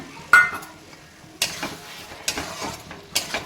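Chicken masala cooking in a pan, stirred with a few sharp scraping clanks spaced apart over a low sizzle, no voices.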